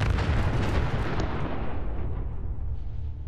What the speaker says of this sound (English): That blew up.